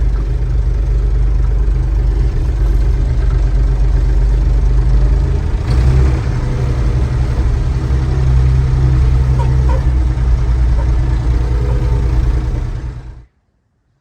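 An old Massey Ferguson 550 tractor engine runs at a steady low throb, loud and close, with a brief knock partway through before it cuts off abruptly near the end.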